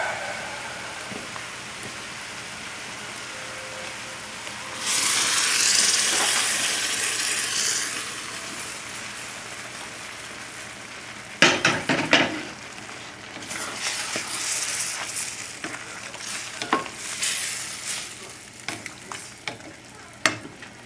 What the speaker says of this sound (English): Now we'll put in the cheese sauce.